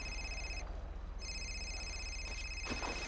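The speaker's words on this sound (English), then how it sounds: "the phone is ringing" A telephone ringing in a roleplay video game, with electronic ring tones sounding in repeated bursts with a short gap between them, fairly quiet over a low steady hum.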